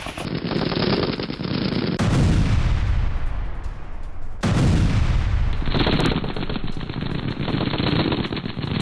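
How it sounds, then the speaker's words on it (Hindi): Heavy gunfire from Russia-Ukraine war footage: continuous loud rapid automatic fire with booming blasts, dense and unbroken for the whole stretch. "यूक्रेन जंग की दिल दहला देने वाली फायरिंग विद द विजुअल्स"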